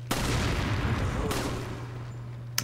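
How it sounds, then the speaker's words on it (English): A dynamite stick shot and exploding in midair in Resident Evil 4: one sharp blast followed by a rumbling decay, a second softer crack partway through and a final sharp shot at the end. "I love shooting dynamite in midair"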